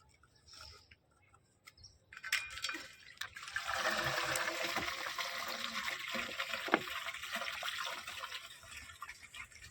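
Water gushes from a pipe driven by an engine pump into a potato field, a steady splashing rush that starts after a couple of seconds of quiet and continues at moderate loudness.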